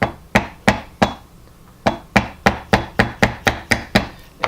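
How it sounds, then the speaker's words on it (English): A chisel is driven into a knife line in wood for cutting dovetails, a dozen sharp, loud mallet blows on the handle, a few spaced at first, then a steady, even rhythm of close knocks, with no speech. "now I can put my chisel right in my knife line there"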